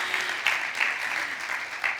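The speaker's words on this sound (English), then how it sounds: "Our friends, yes, a round of applause." A crowd at The Ocean Race Summit in Newport claps steadily, a dense patter of applause at moderate volume with small swells, no speech over it.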